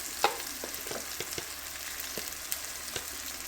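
Chili powder sizzling in hot oil in a pan for a village-style fish curry, a steady close frying hiss with a few light stirring knocks.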